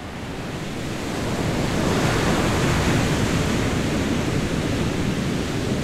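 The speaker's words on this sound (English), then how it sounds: "I love the almost eruptive, stormy side of the waves crashing." Stormy ocean waves crash onto a beach in a continuous, loud roar of surf, swelling slightly and then holding steady with wind mixed in.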